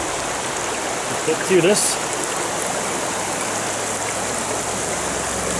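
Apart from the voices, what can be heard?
river flowing around stepping stones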